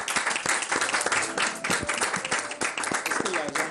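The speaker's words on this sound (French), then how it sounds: "On applaudit très fort pour Muriel." A studio audience on a French television talk show applauds loudly and continuously, dense clapping filling the space with voices faintly underneath.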